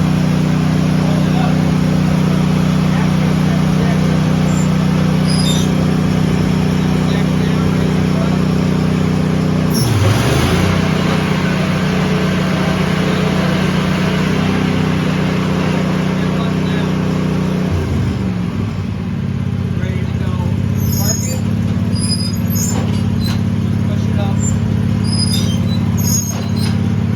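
An Ahrens zero-turn mower engine runs loud and steady at close range, with a steady low drone that dips and shifts pitch twice as the throttle changes, no talking.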